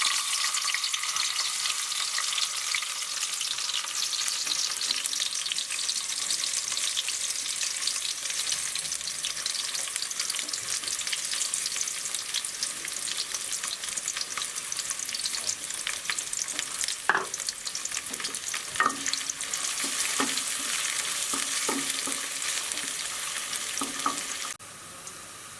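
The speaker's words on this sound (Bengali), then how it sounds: "তেল গরম হয়ে যাওয়ার পর পেঁয়াজ কুচিগুলো দিয়ে দিব।" Chopped onions fry in hot oil with a dense, even sizzle close by, and a few utensil clicks and scrapes from stirring come toward the end before the sound drops off.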